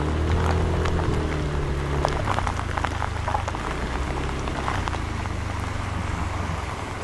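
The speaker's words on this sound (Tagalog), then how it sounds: "pero yung ulan malakas talaga" Heavy rain pours down during a foggy motorcycle ride uphill on wet roads on a Yamaha NMAX scooter, a dense, constant hiss of drops with low engine and wind rumble underneath.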